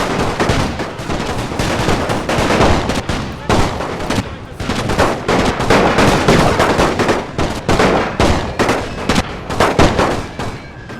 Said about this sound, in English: consistently firing those howitzers as well